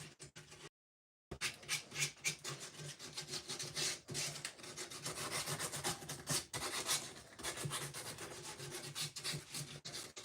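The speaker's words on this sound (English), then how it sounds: "Being much lighter with the sandpaper on the leaves than I am on the face." Sandpaper rubbing over carved wooden leaves with a light touch, a continuous close scratchy rasp in quick back-and-forth strokes that broke off briefly near the start.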